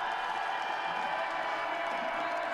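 Crowd applause and cheering for biathlete Oleg Ponomarev at a Sochi standing short-distance biathlon race, a steady, fairly distant wash of clapping that holds evenly throughout without breaks.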